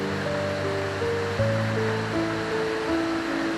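Water flowing steadily from the iron-rich Zanoni spring, dating from 1846, near Borzone Abbey. A constant rushing wash is heard alone, with a faint tonal hum running beneath it and no voices.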